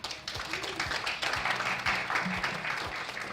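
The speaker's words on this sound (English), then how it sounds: "A big round of applause to Maisha Package" An audience claps for the Maisha Package team at a youth innovation demo day, with steady, moderately loud applause from a room full of people over a few seconds.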